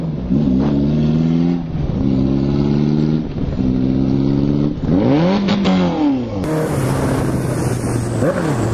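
A Honda CB 650F motorcycle engine revs hard during a wheelie on a street, with repeated loud rising and falling throttle bursts close to the listener, followed by a steadier drone as the bike holds speed.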